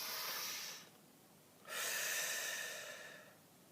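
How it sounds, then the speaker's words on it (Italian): A deep breath taken close to the mic: a long, breathy exhale, a brief pause, then a longer, strong inhale that fades gradually, with no talk. "facciamo un bel respiro profondo"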